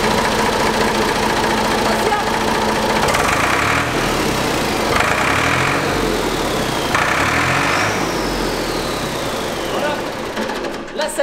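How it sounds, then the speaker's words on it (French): The engine of a Ford 4000 tractor runs at a steady, close, loud idle with a knocking diesel rhythm and a faint rising turbo whine. Someone talks over it for part of the time. "On va juste l'allumer pour vous montrer un petit peu le turbo"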